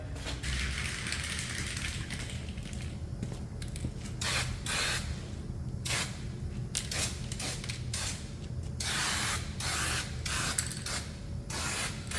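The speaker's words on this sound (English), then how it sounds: "And it's gonna get a can of rattle can as well. Some nice flat black. So let's get at painting these frame rails" Flat black rattle-can spray paint applied to the frame rails of a 1971 Chevrolet C30 dump truck, repeated short hissing bursts of varying length over steady background noise, close and fairly loud.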